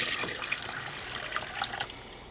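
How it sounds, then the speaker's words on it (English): Water pours steadily from a tap into a jug being filled for homemade mead. The splashing, gurgling stream is moderately quiet and heard on its own. "And then fill it the rest of the way with water just like this."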